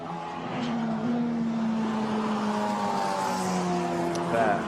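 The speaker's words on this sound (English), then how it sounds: "Kaz Havercourt then turns through Bruxelles. Drops down the hill into Speaker's Corner." Formula Renault Eurocup race cars at Spa-Francorchamps on a semi-wet track, a loud, steady engine whine rising and falling in pitch as the cars brake, downshift and accelerate through the corners, with a brief swell near the end.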